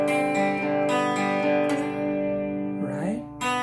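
Acoustic guitar strumming an up-down pattern for a song, a few close ringing chords that fade briefly before a final strum.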